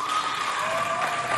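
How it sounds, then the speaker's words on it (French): Onlookers at a ball-throwing game during a Chad independence anniversary celebration clap for a player, a short burst of fairly soft, steady applause with a constant tonal hum beneath. "Applaudissez pour Jean-Claude."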